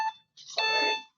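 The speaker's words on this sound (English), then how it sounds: "That's my alarm." An alarm goes off with a short electronic tone, a brief pause, then a longer, brighter sustained ringing tone.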